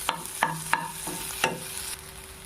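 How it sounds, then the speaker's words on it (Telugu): Cumin seeds, curry leaves and ginger garlic paste fry in melted butter for multigrain pav bhaji, with a steady sizzle under four or five sharp scraping stirs of a spatula in the pan. "కొద్దిగా జీలకర్ర, కరివేపాకు, అల్లం వెల్లుల్లి పేస్టు వేసుకొని వేగనీయాలి"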